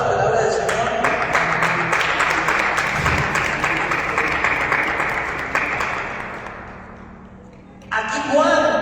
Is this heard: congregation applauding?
yes